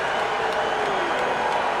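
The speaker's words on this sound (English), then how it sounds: "Mixed emotions out of the crowd." Race crowd at Talladega Superspeedway reacting to Joey Logano's NASCAR win, a steady, distant wash of cheering and applause with no clear voices.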